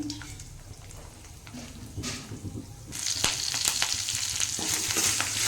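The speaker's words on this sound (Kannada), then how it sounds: "ಈಗ ಇದನ್ನು ಚೆನ್ನಾಗಿ ಫ್ರೈ ಮಾಡ್ಕೊಳಮ್ರಿ" A cinnamon stick fries in a pan for vangi bath spice powder, a soft close sizzle with scraping stirs that grows louder and brighter partway through, with no voices.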